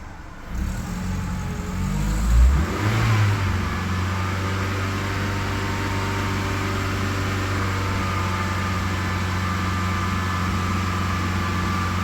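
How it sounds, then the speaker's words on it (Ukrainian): A Skoda Octavia Tour 1.6 BFQ engine is revved once, rising to a brief peak around two seconds and then settling into a steady, loud, droning hum that holds for the remainder, heard close without talk. "Дамо обертів."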